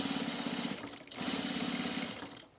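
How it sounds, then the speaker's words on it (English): A sewing machine stitches in the ditch on a double clear bag, its close, steady motor hum and rapid needle rhythm running in two bursts with a short pause between. "it's gonna stitch in the ditch now"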